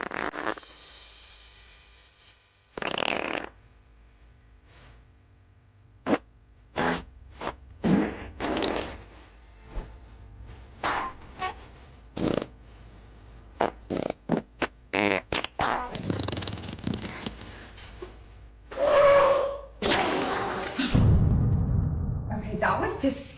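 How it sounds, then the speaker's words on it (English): Repeated fart noises from short social-media reels, a rapid series of brief bursts of varying length and loudness, some close together, with talking mixed in between. "They were seductively farting each other."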